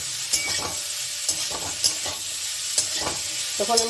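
Boiled young jackfruit sizzling in hot oil with onions for Bengali echor bhorta, a steady close fry broken by regular scrapes and knocks of a stirring utensil, with no talk.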